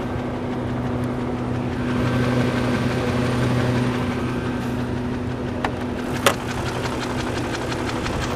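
A BMW engine in a 2004 Range Rover idles with a low, even rumble, joined by faint ticking from a slight exhaust leak and a brief sharp tap near the end.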